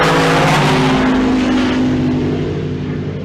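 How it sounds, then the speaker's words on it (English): A pickup truck roars at full throttle down the drag strip at Pueblo Motorsports Park, a loud sustained engine drone that slowly fades as it pulls away, with no voices. "Check out that pickup truck."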